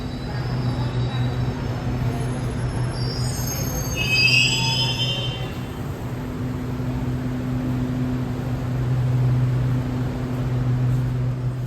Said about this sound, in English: This train pulling in right next to me, that is the earlier train that we let go first.